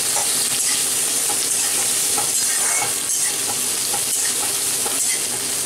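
Chopped onion with cardamom, cloves and cinnamon sizzles loudly in mustard oil, a dense, steady crackle close up with soft stirring scrapes running through it and no talking.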